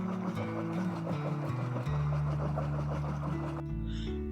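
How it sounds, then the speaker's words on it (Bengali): Boat moving across open wetland water in Chalan Beel, a steady close engine drone with water wash running throughout, shifting pitch near the end. "বিলের বুক চিরে আমাদের নৌকা এগিয়ে চলে।"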